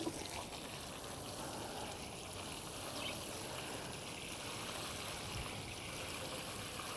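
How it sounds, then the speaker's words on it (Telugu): A steady, continuous rush of water pouring and splashing into a tub of soil mix for lotus and water lily plants, close and fairly loud, without pauses or voices. "మనం దీంట్లో వాటర్ ఫిల్ చేద్దాం సాయిల్ సర్ఫేస్కి జస్ట్ ఒక ఫైవ్ ఇంచెస్ పైకి వచ్చేదాకా వాటర్ పోద్దాం"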